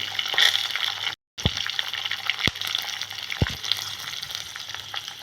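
Chillies, kasuri methi and fresh curry leaves fry in hot oil in a pan, giving a steady close sizzle with small pops and crackles and a brief break in the middle.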